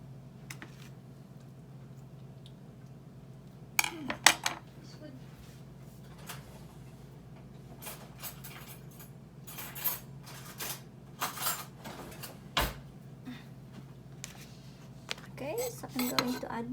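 A spoon is fetched in a kitchen while making bell pepper dishes: scattered metallic clinks and clatters of cutlery against dishes, in bursts of varying loudness over a quiet low hum, with faint talk.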